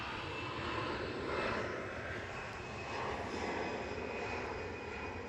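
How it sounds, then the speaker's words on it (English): A Delta Airbus A319 jet departs Nashville International Airport, its engines giving off a steady, broad roar that swells gently and holds at a moderate distance for several seconds with no talk. "Delta Flight 2271, an A319 headed to Atlanta."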